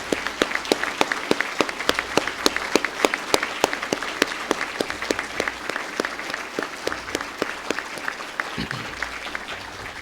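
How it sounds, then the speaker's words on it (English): An audience applauds at a change of command ceremony for a military district. The clapping is steady and fairly close, with sharp individual claps standing out over a dense background of hands. "Please join me in a round of applause for our former district commander."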